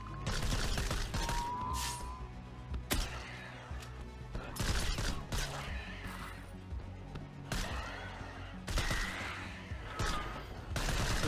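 Strafing gunfire and impacts in the video game STRAFE come as repeated sharp blasts and crashes over a constant layer of game noise and music.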